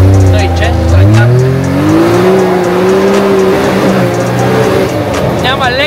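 A Can-Am car in Sport Plus mode pulls away hard, the engine note climbing steeply through a rising rev sweep, loud and close, with a brief gear change and tire noise near the end.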